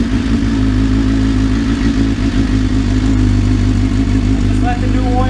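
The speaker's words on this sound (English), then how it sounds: "you're just gonna turn the bike on. I'm gonna stand the bike up just to make sure it runs through" Right after an oil change, a motorcycle engine runs loud and steady at idle throughout, with people talking over the constant rumble.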